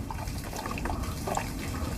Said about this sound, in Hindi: और पानी डाल,